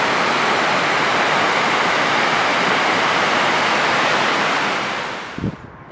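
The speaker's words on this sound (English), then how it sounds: "The waterfall comes down, it cascades down the mountainside" A waterfall cascading down a mountainside roars steadily and loudly, a dense broad rush of falling water that fades out near the end, with a faint thump just after.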